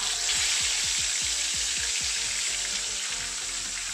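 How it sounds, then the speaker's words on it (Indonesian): Marinated fish frying in hot oil in a wok, a loud steady sizzle that fills the whole stretch, with faint low knocks and scrapes underneath. "ikan yang tadi sudah kita marinasi kurang lebih 1-2 jam ini kita goreng dulu"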